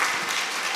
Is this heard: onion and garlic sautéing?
no